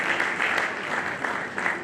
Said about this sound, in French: Est-ce que nous pouvons applaudir l'équipe de facilitateurs?